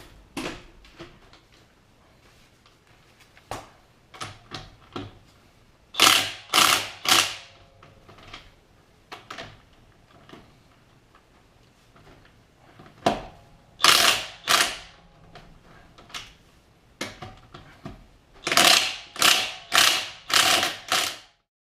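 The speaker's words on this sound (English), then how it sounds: "Let's get these slugs loosened up." A ratchet works on the lug nuts of a Jeep wheel in a garage, sounding as bursts of sharp clicking separated by quiet pauses, fairly close and moderately loud.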